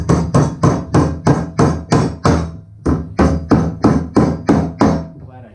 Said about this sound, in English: Now we need a hammer.